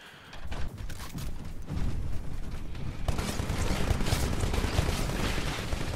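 A Titan's heavy gunfire in Titanfall on PC builds into a dense, loud, sustained barrage that swells after a short lead-in and keeps roaring to the end.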